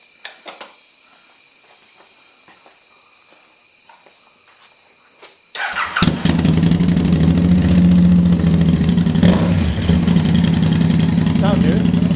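A Can-Am Spyder with an aftermarket Hendel exhaust starts up after a few quiet clicks and footsteps, then settles into a loud, steady, close idle.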